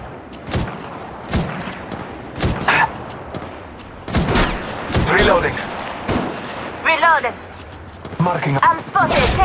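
Gunfire in the Apex Legends Mobile video game: sharp bursts of shots at irregular intervals, some in quick volleys, with brief electronic chirps and a voice talking over the action.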